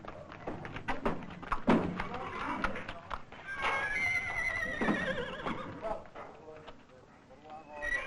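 Horses whinny amid scattered hoof thuds and clip-clops, with people talking over the scene at moderate distance.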